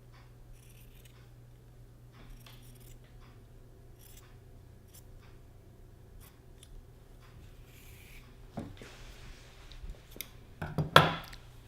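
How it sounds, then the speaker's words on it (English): Scissors trimming excess fabric close to a seam on a gathered maxi dress, quiet snips at first that grow into louder crisp cuts and rustling near the end. "Now we're going to cut off the excess, and we're going to try to cut it as close to the seam line as possible."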